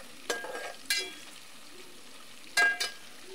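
Chopped onions tossed into hot oil with frying cumin and spices, two sharp bursts of loud sizzling that crackle and fade, separated by quieter stirring and low hissing, with no talk.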